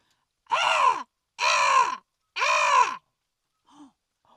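A person's voice imitates a crow, giving three loud, harsh caws in a row, followed by a faint short sound, in a forest at night.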